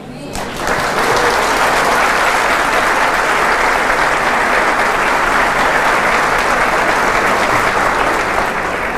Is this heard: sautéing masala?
no